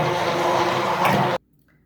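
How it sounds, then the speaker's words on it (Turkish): Blender whirring through yogurt, an egg, salt and pepper, a loud steady motor drone for just over a second before it stops suddenly and falls to near silence. "Hepsini güzelce blenderla"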